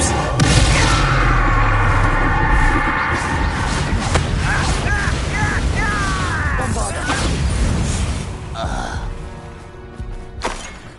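A fiery Confringo spell blast during combat in Hogwarts Legacy, a loud burst with crashing, rumbling impacts and swirling effects, followed by a fading tail, with brief voice sounds among the din.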